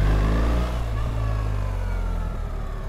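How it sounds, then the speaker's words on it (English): A BMW R1300GS motorcycle engine rolls off the throttle while gliding, giving a steady low drone with a faint higher whine that eases down slightly, continuous and close throughout. "I don't know what they do, but the engine even sounds different. It has that whine, do you hear it? It's like a Triumph whine."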